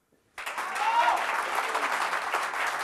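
Studio audience applause on an Italian comedy show breaks out suddenly after a brief silence and holds steady as a dense, even clapping wash.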